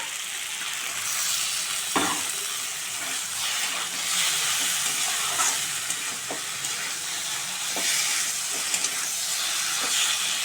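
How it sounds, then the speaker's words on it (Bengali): Fried shrimp stirred in a pan with mustard paste and slit green chillies, a steady loud sizzle with hiss and occasional scraping clicks of the spatula, no voices. "ভাজা চিংড়ি মাছটা দিয়ে দেবো।"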